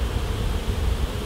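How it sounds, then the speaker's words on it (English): Honey bees buzz inside an open hive during an inspection, a dense, continuous low hum that stays steady and fairly loud throughout, with no voices. "Look at them bees."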